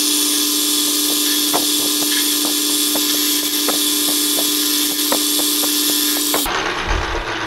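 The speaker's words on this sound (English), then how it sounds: "Let's bore this out." A thin-piece split collet is bored out on a lathe, giving a loud, steady machining whine with faint rhythmic ticks from the cutting tool, ending abruptly as the cut stops and the noise shifts.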